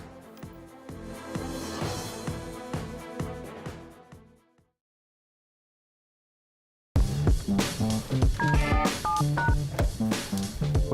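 Telephone keypad dialing tones in rapid rhythmic bursts, loud and near, followed by a gap of silence and then a denser stretch of tones, with no voices.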